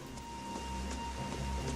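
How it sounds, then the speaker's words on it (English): Steady rain falls in the Final Fantasy XIV video game, a soft continuous hiss with faint scattered drips under a low ambient hum, quiet and unbroken. "It's literally always raining."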